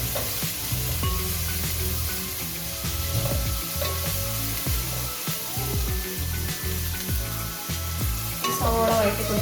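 Sliced onions sauté in a pan for chicken dum biryani, a steady close sizzle with repeated scraping strokes of a spoon stirring through the whole stretch.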